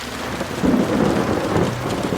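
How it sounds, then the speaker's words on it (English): Heavy rain pours down in a steady, loud roar while low thunder rumbles beneath it, with no voices. "The rain was coming down heavier again as we raced to the car"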